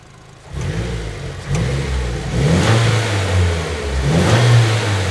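A Nissan Silvia S15 Spec-R engine starts from quiet and revs up, loud and near, with several rising and falling throttle blips over a rumbling idle.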